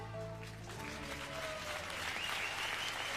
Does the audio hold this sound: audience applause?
yes